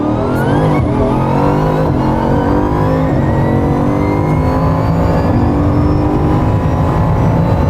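A 1,600 hp Bugatti accelerates hard on a flying lap, its engine droning loud and steady from up close as the pitch climbs through the gears, with no talk over it.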